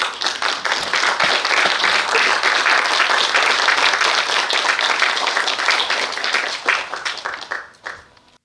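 Audience at a reunification lecture for separated families gives loud, dense applause that holds steady for several seconds, then thins into scattered claps and fades out.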